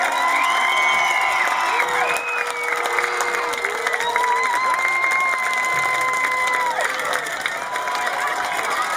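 Football fans at a high school youth night game cheer loudly and steadily, a big crowd roaring with whoops and shouts that ring out over the continuous mass of voices.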